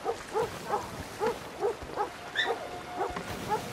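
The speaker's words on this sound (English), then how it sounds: "I know dog's going nuts." A dog barks repeatedly in a steady, evenly spaced rhythm of sharp, moderately loud yaps, about a dozen in quick succession, with no talk over it.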